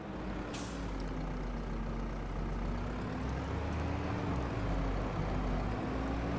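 Steady, loud engine drone of a tractor in a video game, holding a continuous rumble with a faint rising and falling pitch for several seconds, no talk.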